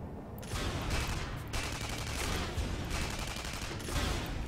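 Rapid bursts of assault rifle fire in the fast-paced shooter Tribes Ascend, several sustained volleys with brief gaps between them, loud and close with no talking.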